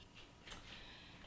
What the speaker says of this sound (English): Opening the oven.